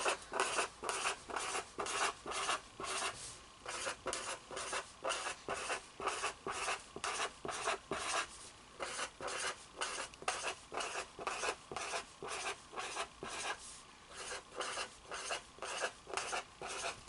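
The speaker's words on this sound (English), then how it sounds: "So what I'm going to do here is draw out my 36 circles." A pen scratches out 36 small circles on paper in quick, regular strokes, a steady faint scritching rhythm of repeated short bursts that runs without pause and with no voices.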